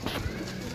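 Pigeons at a loft in Sarai Alamgir, Gujrat, give a brief, soft coo that sits low and close against a faint background of voices.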